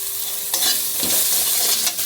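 Tomatoes with salt cook in a pan for a thin fish curry, with a steady close sizzle and a couple of stirring scrapes, with no talking.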